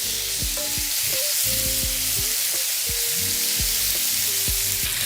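Loud, constant sizzling hiss of green beans cooking on a grill over high heat, with repeated scraping and clattering sounds underneath; no talking.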